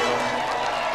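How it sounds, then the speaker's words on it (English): Studio audience applauding on a television game show, a dense, loud, steady wash of clapping filling the whole moment without letup. "So let's have another round of applause then."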